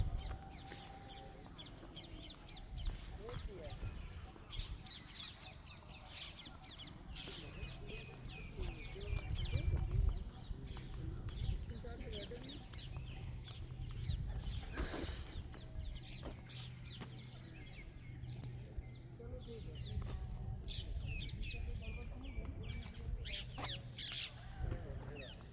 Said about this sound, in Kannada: ಅಕ್ಕಿಗಳೆಲ್ಲ ಚಿಲಿಪಿಲಿ ಅಂತಿದೆ, ತುಂಬ ಚೆನ್ನಾಗಿದೆ